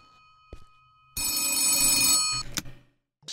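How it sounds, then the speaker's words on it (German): Old-fashioned telephone bell ringing in The Tape horror video game, one loud metallic ring lasting over a second after a brief click, then fading, with knocks before and after. "Telefon."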